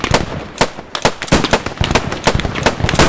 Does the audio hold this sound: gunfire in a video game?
yes